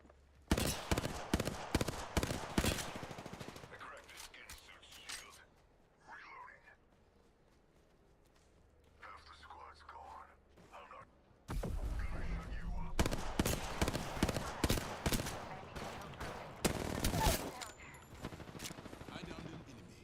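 Video game gunfire comes in rapid bursts of loud, close shots, then a quieter stretch of faint rustling and talk, then more sustained volleys of repeated gunshots; a voice speaks among the shooting.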